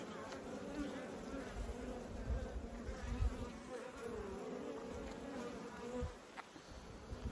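A dense, steady drone of many honey bees buzzing around a hive, close and continuous throughout.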